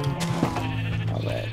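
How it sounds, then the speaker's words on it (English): A pink sheep bleats in the Minecraft video game, one wavering, fairly loud bleat lasting over a second against a steady game backdrop. "That's adorable little pink sheep."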